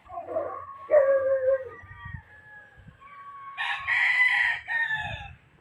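A pure Raptor sweater gamecock with a bright red face crows nearby in two loud drawn-out calls, while short clucks and low thumps come from other birds around it.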